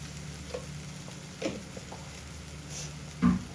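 Homemade masala frying in hot oil makes a soft, close sizzle with a few faint pops and stirring clicks, quiet and short, with no talk.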